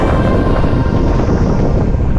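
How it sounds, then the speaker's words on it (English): Strong wind roars steadily across the microphone on Mount Elbert, a Colorado fourteener, a loud, continuous buffeting rush with no voices. "Pretty damn windy out there."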